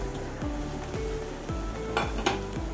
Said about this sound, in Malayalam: നല്ലപോലെ ഒന്ന് ഇളക്കി കൊടുക്കുക